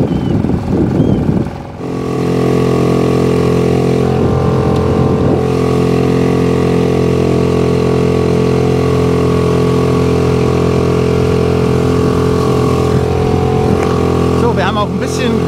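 An outboard motor runs at full throttle on a loaded inflatable boat heading out with the current, giving a loud, steady engine drone close by after a short start, with some talking heard over it.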